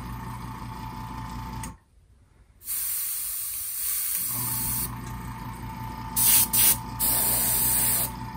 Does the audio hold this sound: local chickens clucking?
no